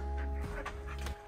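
Foster dogs pant close by in quick, rhythmic breaths, with a low rumbling background that drops away near the end.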